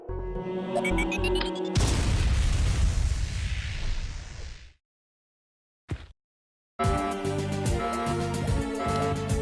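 A power bomb detonating in the video game Another Metroid 2 Remake, with a loud, sustained roaring blast that swells over game music, then cuts to near silence, a brief blip, and the music returning.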